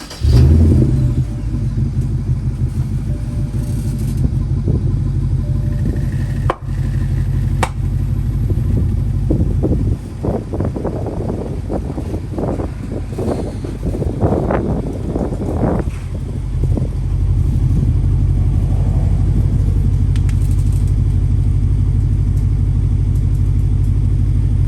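A 2010 BMW 550i Gran Turismo F07 engine cranks and fires up loudly up close, then settles into a steady deep idle with a burst of revving in the middle.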